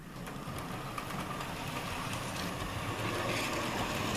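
A Hornby K1 model locomotive runs steadily along its track, a continuous close mechanical whirr and rattle at an even level with no voices.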